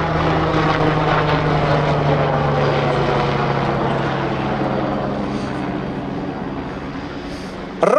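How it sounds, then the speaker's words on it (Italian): Aerobatic helicopter at the Linate Airshow performing an inverted flip manoeuvre, a loud continuous rotor and engine drone with steady blade hum that fades slightly toward the end. "appeso all'elica, la gravità fa il suo lavoro e rovescia l'elicottero di Mirko"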